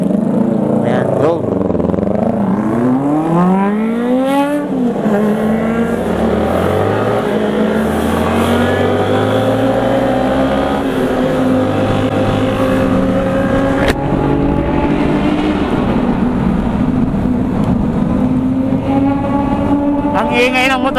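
Big bikes rev their engines loudly nearby, a rising and falling roar with swooping pitch sweeps, steady and dense for the whole stretch with faint voices underneath.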